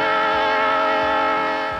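A train on a scenic historic railway near Mount Hood, Oregon, rumbles with a sustained, loud, even tone like a horn or whistle held for a couple of seconds, fading slightly at the end.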